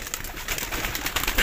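At Ustad Abid Jutt's loft, standard-bred pigeons produce a brief run of soft, rolling coos, moderately close with faint rustling.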